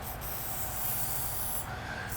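Silicone spray hisses steadily from an aerosol can, misting the inside of a Fox Body fuel tank filler neck in one continuous, fairly quiet burst.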